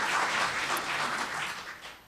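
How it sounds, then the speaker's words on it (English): Audience applause greets the keynote speaker at a women-in-communication event: a dense, steady wash of many hands clapping at moderate distance, fairly soft, holding evenly throughout without voices. "Give her a round of applause first"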